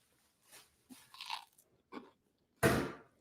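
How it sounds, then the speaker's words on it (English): Open-mouthed chewing of crunchy food, several wet, crisp bites and mouth noises close to the microphone, ending in one loud crunch, with no talking. "I'm sorry for chewing my mouth open, but I'm rushing."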